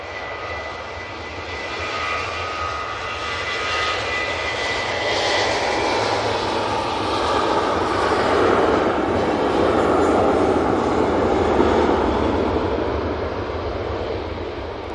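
A plain-liveried TUI passenger jet approaches at Manchester Airport, its engines a steady broad roar with whining tones that swells gradually, peaks, then eases slightly.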